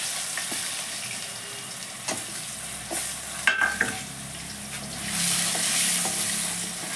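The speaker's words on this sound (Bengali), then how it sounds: "সেই আলুগুলোকে এর মধ্যে" Diced potatoes go into a pan with garam masala powder and fry in oil, giving a steady sizzle with a few stirring clacks and scrapes, the sizzle swelling louder toward the end; no one speaks.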